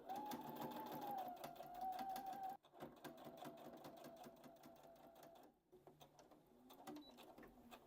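A domestic sewing machine stitches a pinned jacket in bursts of steady motor whir, pausing briefly around the third and sixth seconds before running again, close and fairly quiet throughout.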